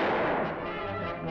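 A cartoon gunshot bursts out as a single loud, booming blast that rings and decays over about a second.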